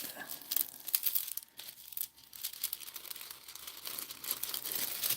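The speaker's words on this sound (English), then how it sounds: "I'm gonna do what I can with trying to cut this little piece of foil" A small piece of foil is cut, giving faint, irregular crinkling and snipping rustles that continue quietly throughout, close but soft.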